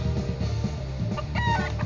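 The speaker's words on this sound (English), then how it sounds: "We've got chickens," Chickens clucking over a steady, busy soundtrack in an RPG Maker VX Ace mini-game arena, with a few brighter squawks near the end.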